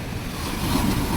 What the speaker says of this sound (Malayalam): കടൽ ഭയങ്കര റഫായി കിടക്കാണ്